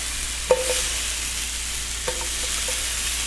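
Food sizzles steadily in a hot cast iron pan, a close, even hiss broken by two light clinks of a utensil against the pan.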